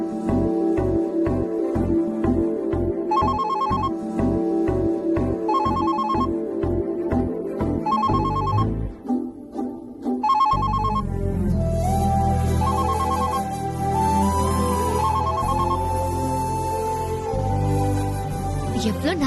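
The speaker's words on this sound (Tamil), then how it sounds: "லேண்ட்லைன் அடிக்குது" A landline telephone rings in a repeating electronic ringtone pattern, loud and close indoors, then gives way to dramatic background music in a Tamil television serial scene.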